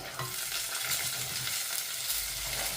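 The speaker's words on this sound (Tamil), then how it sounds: "இந்த உள்ளியும் கருவேப்பமிலை நல்ல வெங்காயம் எல்லாம் நல்லா வதங்கட்டுக்கும்" Garlic, curry leaves and onion sautéing in oil for a Sri Lankan pineapple curry, a dense, even close sizzle with soft stirring movements and no talking.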